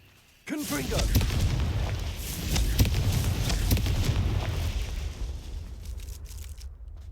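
Confringo fire spell cast repeatedly in Hogwarts Legacy, a sudden loud blast giving way to a sustained roaring rumble with scattered crackling bursts, alone and close.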